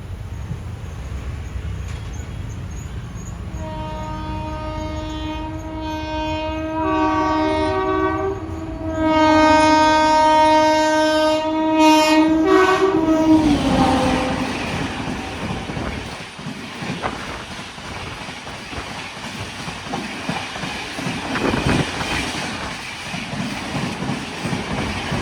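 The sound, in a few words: high-speed Vande Bharat or Shatabdi train passing station, horn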